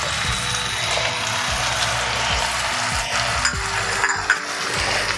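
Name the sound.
spice paste frying in oil for rui fish curry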